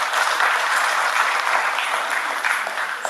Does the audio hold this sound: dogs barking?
no